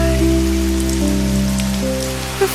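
Rain patters steadily on a seaside cafe on a gray day, a continuous soft wash of drops under a gentle musical backdrop with sustained tones.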